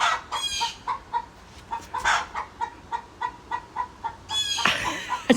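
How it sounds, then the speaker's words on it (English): Backyard chickens clucking and squawking while a cat hunts nearby, a string of short, sharp rhythmic clucks with louder squawking bursts at the start and end, close and clear. "Calm down, chickens."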